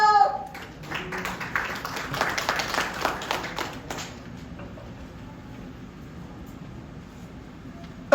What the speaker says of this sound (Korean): 장로님 박수 쳐주세요